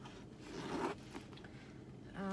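A zipper on a pebbled leather designer handbag is drawn along in short, faint scratchy pulls, close up and quiet, with no voices.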